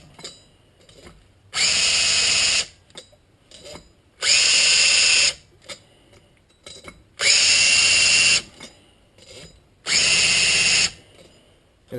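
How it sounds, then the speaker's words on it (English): A cordless impact driver fitted with a hub cleaning kit grinds rust and debris off a 2008 Infiniti G37 front brake hub, four loud harsh buzzing bursts of about a second each, separated by quiet gaps with small clicks. "we now are going to attach a hub cleaning kit to the impact driver, cordless impact driver, to clean the hub surface"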